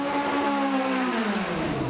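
A drag racing car at Santa Pod Raceway during BugJam roars past at full throttle, its loud engine note sliding downward in pitch as it pulls away.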